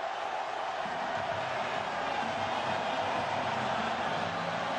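A home football crowd in Bosnia roars for a Dzeko goal against Spain, a dense, steady wall of distant cheering and noise with no breaks.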